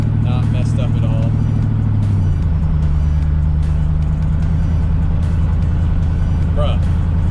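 A lifted truck on its first drive after the lift, with a loud, steady engine drone and road noise filling the whole stretch and a pitch shift partway through; voices talk faintly over it.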